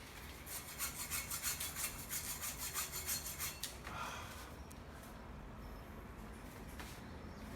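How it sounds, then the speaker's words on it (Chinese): A hand saw rasps back and forth through a block of hard frozen fish, about a dozen quick rhythmic strokes close by, then stops, leaving only faint background noise. "拿锯子来。"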